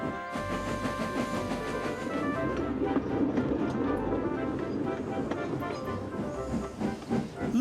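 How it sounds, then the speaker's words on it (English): A steam locomotive in the Trainz railway simulator chuffs gently into a station, with a steady hiss and low rumble and soft rhythmic exhaust beats rising and falling at moderate volume. "They chuffed gently into the station."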